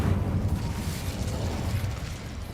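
A sustained roaring whoosh of the Incendio fire spell cast in the Hogwarts Legacy video game, loud and dense throughout with no talking.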